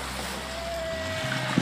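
Ocean waves wash steadily on a shore beside a sleeping baby fur seal, a continuous soft surf rush with low rumble and a brief bump near the end.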